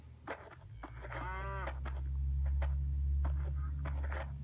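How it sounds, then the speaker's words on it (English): A cow in the video game Survival Craft lets out one drawn-out, wavering moo, close and clear over a steady low game hum, preceded by a few short clicks. "The hostile cow."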